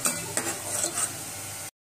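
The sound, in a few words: stirring dal water in a pot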